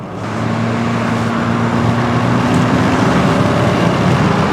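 Kia Soul 1.6 diesel car pulling away under acceleration, a steady engine drone with rising harmonic tones heard from inside the cabin, continuous and fairly loud with no talking.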